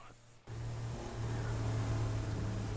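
Race car engine droning steadily at an endurance race at VIR, loud and close after a sudden start, holding a sustained low tone with no talk over it.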